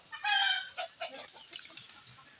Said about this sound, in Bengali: এই দেখেন মুরগি